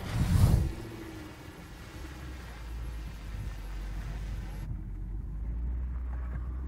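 An old Range Rover in low range crawls over a frame-bending off-road obstacle, its engine a low steady rumble with a thump and a scrape at the start, in the open outdoors.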